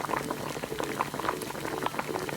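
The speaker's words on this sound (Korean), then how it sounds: "충분히 익도록 푹 끓여줍니다." A miniature toy pot of mala tang soup with fish balls, tofu skin, dried tofu and flat glass noodles boils steadily, with dense, quiet bubbling and popping close up.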